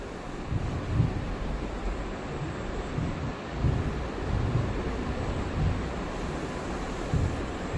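An airbrush spraying water as it is flushed clean gives a steady, dense hiss with faint low rumbling bursts. It runs continuously without pause and no one speaks.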